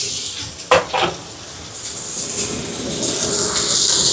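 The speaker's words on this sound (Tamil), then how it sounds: "இப்போ வெங்காயம் வதங்கட்டும்." Onions sizzling in hot oil in a pan on a home stove while cooking a Tamil chicken curry lunch, a steady hiss with a few sharp stirring clinks early on, building slightly louder toward the end.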